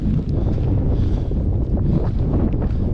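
Strong wind buffeting the microphone outdoors in New Zealand at dusk, a constant low roar gusting slightly louder and softer throughout with no voices.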